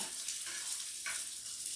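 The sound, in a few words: latkes sizzling in frying pan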